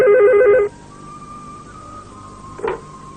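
A telephone rings loudly in a rapid, repeating electronic trill inside a home in a Pakistani horror drama, then cuts off abruptly, leaving a quiet room and one brief clicking tone.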